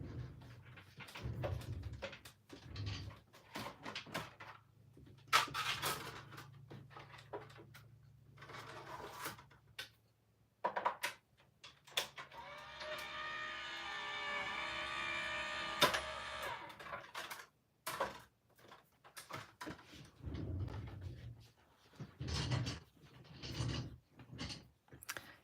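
Paper card stock fed through a hand-cranked embossing machine, giving a run of ratcheting, grinding mechanical clicks and rolling for several seconds, with quieter handling noises and pauses before and after.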